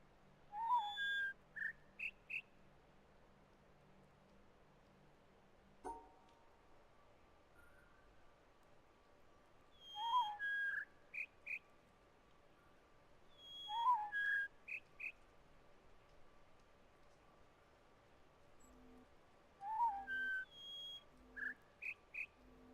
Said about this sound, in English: Are we listening to the high-pitched bird again?